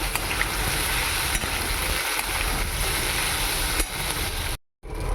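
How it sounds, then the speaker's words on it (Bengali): Boiled pasta being stirred into sizzling chicken in a pan for chicken pasta, a steady close hiss of frying with scraping and stirring that cuts out briefly near the end. "এবার আমি সিদ্ধ করে রাখা পাস্তাগুলো দিয়ে দিলাম ভালো করে মিশিয়ে নেব"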